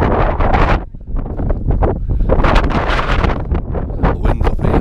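Strong wind buffets the microphone high on a volcano hike in Lanzarote, gusting in loud, rumbling bursts with a brief lull before surging again, no voices heard.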